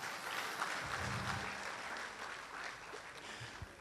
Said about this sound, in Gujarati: અહીંયા તાળીઓ પડવી જોઈએ